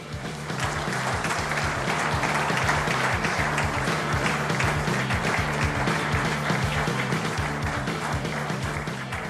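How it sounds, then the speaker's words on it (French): A television studio audience in Grenoble claps warmly to welcome a guest, steady dense applause rising quickly and holding strong throughout. "je vous demande d'accueillir et d'applaudir très chaleureusement notre invité"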